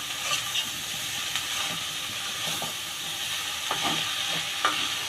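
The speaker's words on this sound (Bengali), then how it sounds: "অ্যাড করার পরে আমি এটা ভালো করে এগুলাকে আমি ধীরে ধীরে মিশিয়ে দিচ্ছি।" Snake gourd and egg stirred in a hot pan, a steady frying sizzle and hiss with soft intermittent scraping strokes of the spatula, close and continuous, no voices.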